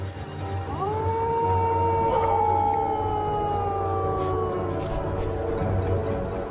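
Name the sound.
wild dog howling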